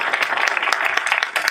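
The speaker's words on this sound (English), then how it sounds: "Give them a round of applause, everyone." Audience applause at an elementary arts magnet school groundbreaking ceremony, a steady wash of many hands clapping from a crowd, fairly close and continuous through the short stretch.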